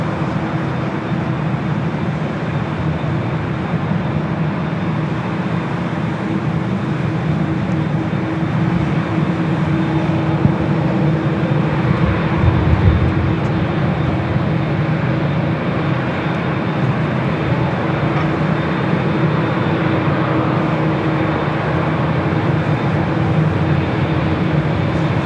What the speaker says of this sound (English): Zippy, flight 33 heading back to Tokyo Narita, 787-8 Dreamliner number 3 for takeoff.